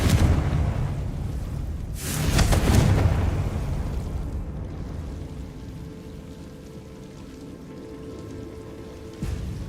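Confringo blasting spell in Hogwarts Legacy: a loud burst around the two-second mark with a crackling, rumbling tail that fades into quieter ambient game sound, ending with a small thump.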